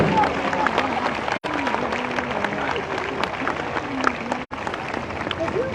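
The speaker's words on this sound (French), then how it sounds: "nous allons proposer une pluie d'applaudissements" A crowd at the Route du Rhum 2022 lock passage applauds British sailor Sam Goodchild, a steady wash of clapping and cheering that runs the whole time beneath an announcer's voice.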